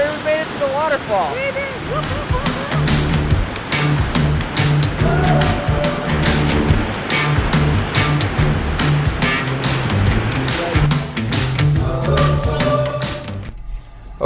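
A waterfall in Judge C.R. Magney State Park, Minnesota, roars as a loud, continuous rush close by, with a person's voice heard faintly over the water noise.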